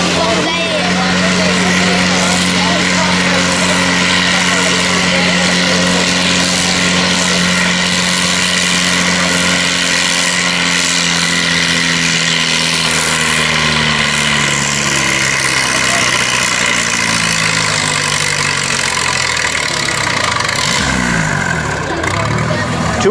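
A modified Farmall M tractor straining down the track at a tractor pull, its loud engine roar holding a steady pitch that sags and bogs down toward the end, with an announcer talking over it.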